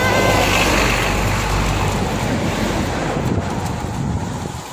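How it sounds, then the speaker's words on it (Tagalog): Steady wind buffeting the microphone by the sea, a loud continuous broadband roar with surf-like swells, no voices over it. "Ayan ang hangin."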